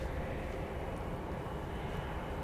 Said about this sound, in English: I hear an executive jet.